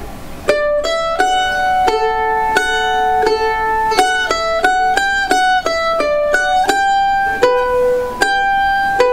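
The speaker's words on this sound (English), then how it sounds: "now let's combine those with the first two chunks" A mandolin plays a quick passage of the fiddle tune "Liberty", bright picked notes in an even rhythm, close and loud with no talking.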